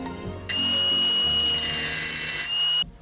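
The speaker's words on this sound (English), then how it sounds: "Nothing a little angle grinder action couldn't fix." An angle grinder modifies rear suspension rails on a Honda-powered Porsche with a close, loud, steady high-pitched whine. The whine lasts about two seconds and stops abruptly.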